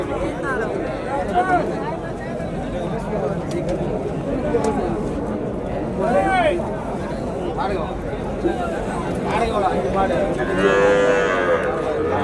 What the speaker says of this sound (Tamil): நாட்டு மாடுங்க பெரிய பெரிய மாடுங்க எல்லாமே